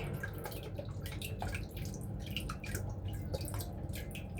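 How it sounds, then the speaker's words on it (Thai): Lime juice poured over santol fruit, with salt nearby, while preparing a spiced santol dish: close, intermittent splashing and dripping trickles in short bursts over a faint low hum, with no talking. "ตามด้วยน้ำมะนาว น้ำมะนาวใส่เยอะหน่อย"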